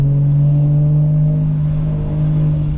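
Car engine revving close by, a sustained strong droning tone that holds steady and then eases slightly, heard alone without any talking.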